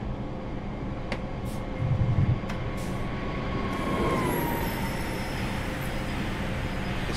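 Passenger train setting off from Salzburg toward Schwarzach St. Veit, a steady low rumble of running gear and rail noise with a brief heavier surge early on and a thin high whine rising as it moves.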